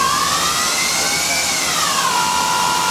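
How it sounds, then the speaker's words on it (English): An Emco Maier ET-425TCM CNC turning center runs as its two sub-spindles pick off a part, a loud steady mechanical drone with a tone that rises and then falls back. "Those are the two sub-spindles picking off the part, going into its primary mode."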